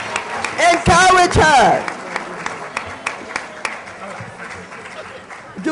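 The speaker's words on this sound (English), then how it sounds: "Give her a big round of applause." Applause and clapping from a conference audience at a Congressional Black Caucus panel, under loud speech at the start, then lighter scattered claps continuing through the rest.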